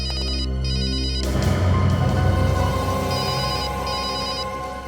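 A telephone rings in a tense crime-investigation scene: repeated electronic bell trills, loud and close, over low background drone and music with no talk.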